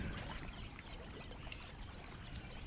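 Water rushes and pours steadily at the Perumpallam dam in the Kadambur hills, a constant, fairly faint splashing roar with no talk over it.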